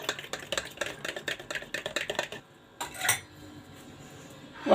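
A utensil beats a mixture seasoned with salt and pepper in a bowl, fast rhythmic clinking strokes for a couple of seconds, then a pause and a few scattered scrapes.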